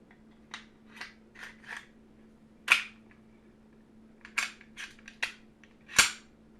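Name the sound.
handgun being reassembled after a field strip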